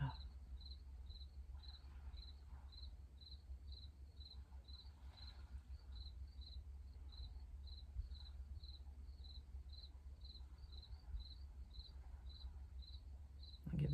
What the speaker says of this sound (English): I'll leave you a few quiet moments here of the crickets, the last few days of the cricket song.